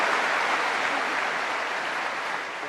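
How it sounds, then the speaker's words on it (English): A conference audience at an opening ceremony claps in a dense, even wash of applause that holds steady and then begins to taper slightly toward the end. "Can we give them a nice round of applause, please?"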